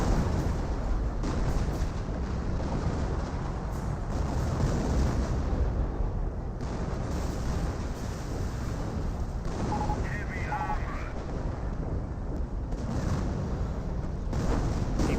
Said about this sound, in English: Barrage back here. Sector artillery in this sector gets a bit of damage onto the command tank